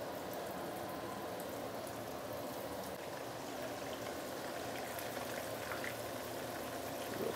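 Chicken pieces deep frying in hot oil, a continuous bubbling sizzle at low, even volume with no talk.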